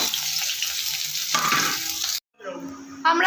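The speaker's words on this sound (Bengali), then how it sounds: "ফার্স্টে পেঁয়াজটা আমি ভেজে নেব।" Onions frying in white oil in a pan for Mughlai paratha, a steady close sizzle with stirring scrapes, a brief silent gap, then the frying returns louder.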